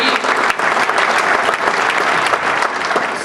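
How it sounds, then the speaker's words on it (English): Industry event crowd in Detroit breaking into loud, dense applause, many hands clapping continuously and close throughout. "So give yourself a round of applause."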